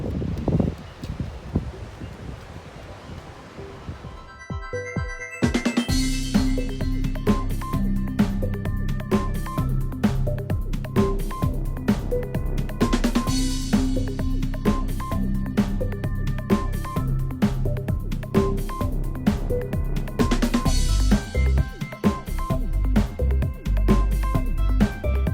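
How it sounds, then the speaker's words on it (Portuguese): Strong wind gusts across open salt flats by the beach at Barra do Sul, a steady loud rushing roar with buffeting microphone noise that swells and eases in waves, no talk. "Chegamos aqui na salina e tem bastante vento hoje."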